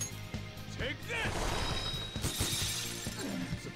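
In a Persona 5 battle, a sharp glassy shatter sounds as an enemy breaks, with bright crashing fragments over game music and a character's voice.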